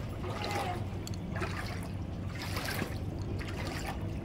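Flood water flows steadily nearby, a continuous rushing wash with soft trickling and lapping detail, no voices over it.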